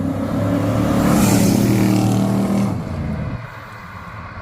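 Pontiac and Chevy cars in a drag race, a loud sustained engine roar that swells as they accelerate, then drops away as they pull off into the distance.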